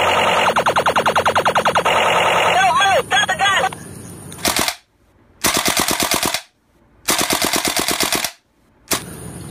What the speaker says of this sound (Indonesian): Wih, yang ini AK-47.